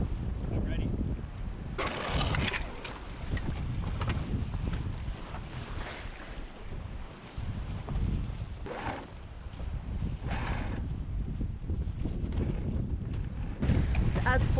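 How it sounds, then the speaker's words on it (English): Wind buffets the microphone on a sailboat at sea as a constant low rushing roar with gusty swells, while water splashes against the hull and a person talks intermittently nearby. "As forecast, the wind has kind of swung behind us"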